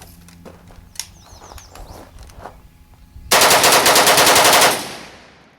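A Korean-made AK-47 rifle fed from a 75-round drum magazine, quiet handling noises and then one loud, close, rapid automatic burst of about a dozen shots, with a ringing echo dying away after.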